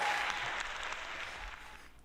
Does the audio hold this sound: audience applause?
yes